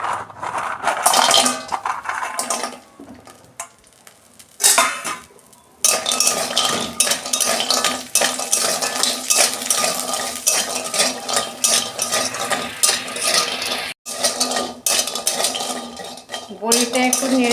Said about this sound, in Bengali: বড়িটা একটু নেড়ে চেড়ে লাল লাল করে ভেজে নেব।